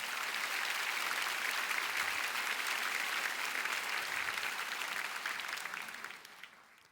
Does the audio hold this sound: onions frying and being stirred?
no